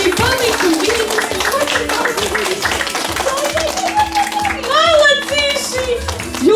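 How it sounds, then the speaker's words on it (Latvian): Parents clap steadily at a Christmas event, a loud, continuous patter of many hands close by, while someone speaks and calls out over the applause. "Kopā, aplausiņi vecāki, palīdzam bērniņi"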